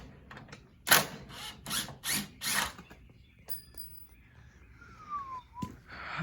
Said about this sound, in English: 5 seconds for the Dewalt to take out the screw